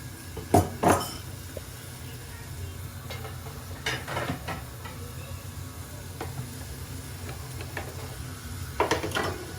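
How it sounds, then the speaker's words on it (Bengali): A utensil stirs and scrapes inside a pot of dried-fish curry, with intermittent metallic clinks over a soft background sizzle. "বইনে দিরা আর আমি লাড়াচাড়া করি"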